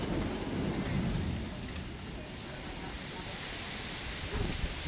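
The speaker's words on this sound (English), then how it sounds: "Oh my. It's so thundering." Thunder rumbles through a storm with steady rain hissing throughout, loud and close, with a low swelling roar near the start and end; a voice can be heard faintly beneath.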